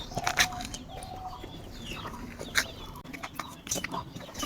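Chickens at a travelling chicken seller cluck and squawk in short, scattered bursts over a murmur of background noise, with faint voices nearby.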